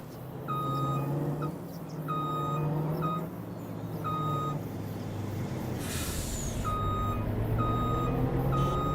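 Electric truck reversing in Farming Simulator 25, a steady repeating series of loud reversing beeps over a continuous engine hum, with a brief hissing burst near the end.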